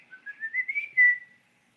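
A voice whistles in imitation of pet birds' cute chirping, a rising, warbling run of short notes for under two seconds that swells to a louder held tone at the end, heard alone.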